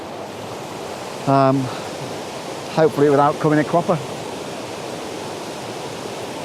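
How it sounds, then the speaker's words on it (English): Running water of Scaleber waterfall pours in a constant, loud, close rush throughout, while someone speaks briefly over it. "So all done down at the waterfall."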